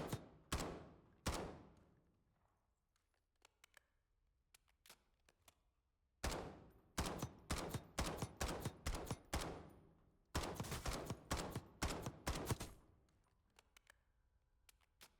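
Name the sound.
CR-56 AMAX rifle gunfire in a video game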